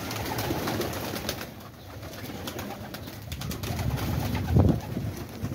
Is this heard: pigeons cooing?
yes